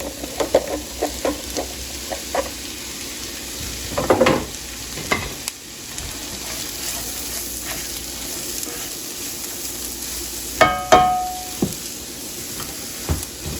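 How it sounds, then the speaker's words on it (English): Vegetables fry in grease in a pan over medium-high heat for western hash, a steady sizzle with scattered stirring scrapes and clinks, close and moderately loud with no talking. "I'm going to put them in my grease and start frying them up."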